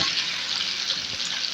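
Spices tipped into very hot oil for a green mango pickle sizzle and fry in a steady, loud hiss that carries through without pause.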